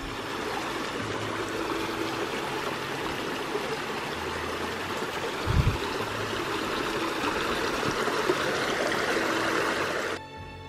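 A Pyrenean mountain stream rushes steadily over rocks, a continuous close wash of flowing river water with one brief low thump midway and a sudden drop near the end.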